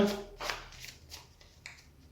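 Oracle cards being shuffled by hand for a divination reading: a short run of soft, close riffling and slapping bursts, several quick rustles in a row.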